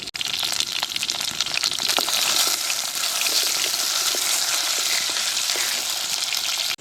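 Taro pieces frying in a pan for a taro, spinach and chicken curry, giving a steady loud sizzle with crackling spatters and occasional stirring scrapes, no voices.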